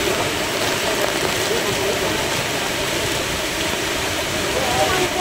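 A monsoon waterfall in Chandranagar village near Dapoli in the Konkan roars as a loud, constant broadband rush, heard up close without pause.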